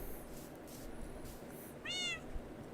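A cat gives one short meow partway through, fairly faint and set against steady low background noise and soft rhythmic game sounds.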